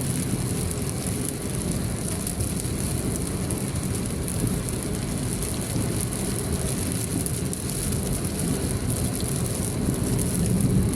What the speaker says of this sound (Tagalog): malakas yung hangin tapos ulan